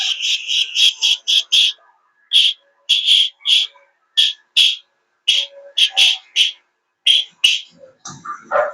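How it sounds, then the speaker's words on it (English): A whistle is blown in a long run of short, shrill toots, some in quick clusters and others spaced apart, loud and close with brief silences between them. "play with this whistle."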